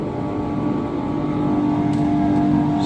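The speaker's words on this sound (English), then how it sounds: "And then we've got another blower." A steady mechanical whir with a low hum and a faint tonal whine runs continuously, close and fairly loud, with no talking.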